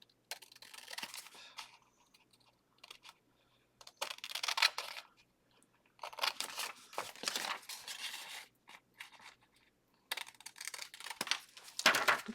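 Scissors snip through junk mail paper while an envelope pocket is trimmed, short crisp cutting bursts in several clusters separated by quiet pauses, close and fairly faint.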